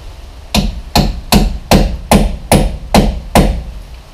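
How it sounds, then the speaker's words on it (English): A hammer drives a Torx bit into a rusty brake caliper bolt on an MK6 Ford Transit's front brakes. Eight loud, close metallic whacks land at an even, steady rhythm with no talking. "just give it a whack of a hammer and actually slide in."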